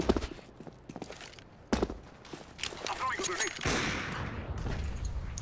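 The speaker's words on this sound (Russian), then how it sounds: "Вот прям в бок ему стрелял." Gunfire in a first-person shooter game, sharp broadband shots scattered irregularly, some close and loud, with a dense burst of firing toward the end, under bits of talking.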